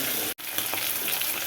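Mackerel frying in a pan with curry leaves, a steady, close sizzle of hot oil broken by one brief dropout, no talking.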